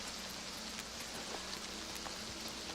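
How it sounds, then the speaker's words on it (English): Soft, continuous patter of rain on a surface, faint and even, with scattered droplet ticks and no voices; rain falling over the ocean coast in the video game Oblivion Remastered. "The ocean out there, raining."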